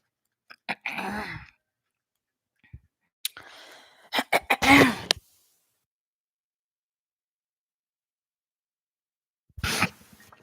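A few harsh, throaty coughs in short bursts, close to the microphone, separated by stretches of silence.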